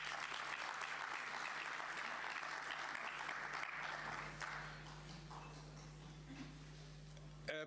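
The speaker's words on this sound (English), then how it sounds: "May we please give her a big round of applause?" Applause from a summit audience after a speaker is thanked, steady broadband clapping that thins toward the end, with a constant electrical hum underneath.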